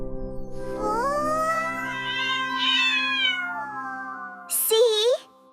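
A cat gives one long, drawn-out meow, clear and close, rising then trailing off, ending in a brief sharper squeak.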